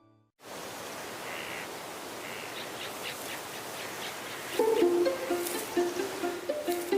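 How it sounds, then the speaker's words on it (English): Native forest birds of Guam sing over a steady hiss of forest ambience: faint chirps at first, then clearer, repeated twittering calls building in the latter half, with no talk. "Guam was once home to over 12 native species of forest birds"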